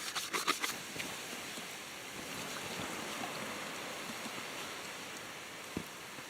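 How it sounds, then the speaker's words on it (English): Steady running water splashes continuously, rinsing dishes in a van in winter, with a few clinks early on and a brief knock near the end. "Definitely more water than I would usually use to rinse dishes"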